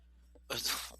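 A single brief sneeze in a quiet room during a sports-picks conversation, a sudden sharp burst after a faint intake of breath.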